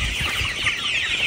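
Chickens on a poultry farm clucking continuously, a close, busy chorus of hens with low murmuring beneath.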